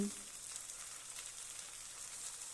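Onion stalks, potato, beans and eggplant frying in a pan give a steady, soft hissing sizzle, close and continuous, with no other sounds over it.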